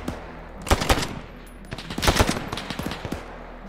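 Machine gun fire in the Arma 3 video game, rapid bursts of automatic shots crackling in two clusters, fairly close and sharp with some echoing tail.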